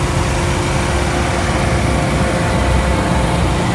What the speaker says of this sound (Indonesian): Ini mesin masih nyala, tapi suaranya memang masih halus banget.